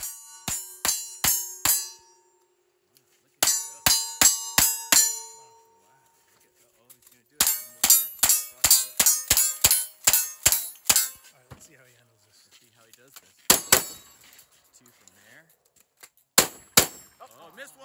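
Rifle and shotgun shots clang off steel targets at a cowboy action shooting match, fired in rapid bursts of sharp reports with ringing metallic hits, pausing between strings of fire; faint voices are heard between volleys.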